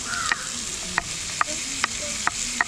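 Sliced onions for beef masala sizzle steadily in a pan, with sharp, regular scrapes and clacks of a spatula stirring about every half second, close and alone.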